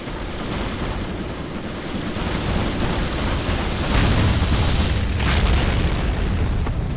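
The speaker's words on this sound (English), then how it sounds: "this is a major airstrike now incoming" A major airstrike in the Company of Heroes strategy game pounds the battlefield with dense, continuous rumbling explosions, loud and unbroken for several seconds, with no talk.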